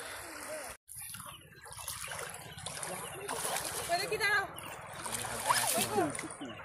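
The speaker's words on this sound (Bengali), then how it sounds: "এই যে স্বচ্ছ জল, কুলু কুলু শব্দে বয়ে চলেছে এইদিকে।" Clear water of the Murti river flowing and splashing over pebbles, a steady close babble and trickle throughout, with voices talking over it.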